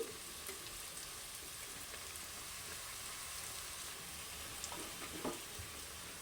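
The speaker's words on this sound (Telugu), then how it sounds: "పచ్చిమిర్చి వేసి ఫ్రై చేసుకోవాలి ఫస్ట్ తర్వాత ఉల్లిపాయ ముక్కలు వేసుకోవాలండి" Green chilies and onions fry in a pan with a faint, steady sizzle, a soft continuous crackle with a few small spatters near the end and no voices.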